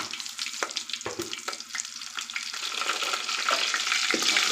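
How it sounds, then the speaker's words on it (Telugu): Mustard seeds and onions frying in oil for drumstick sambar make a steady broadband sizzle, with a few sharp pops and stirring scrapes. It is close and moderately loud, and no one speaks. "సైడ్ కొద్దిగా ఆవాలనేది యాడ్ చేశాను"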